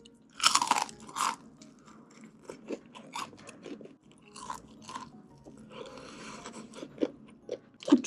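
Crunchy, peppery, salty fried chicken is chewed up close. The crisp bites and crunching chews come in irregular bursts with brief quieter pauses, and nobody speaks.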